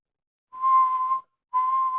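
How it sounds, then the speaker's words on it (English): Two steady tonal whistles from wind around a Tesla Model Y at about 60 to 80 mph on the freeway, each lasting under a second with a short gap between, clear and alone. "there is a whistle noise, guys, when I get to about 80 miles per hour"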